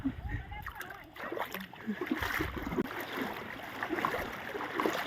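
Floodwater flowing through a house and its surroundings, a steady rushing wash broken by close splashes and sloshing, with voices talking over it.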